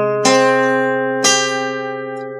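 Guitar picking part of the Final Fantasy 1 town theme, two clear plucked notes about a second apart, each ringing out and sustaining while they slowly fade, close and alone with no talking.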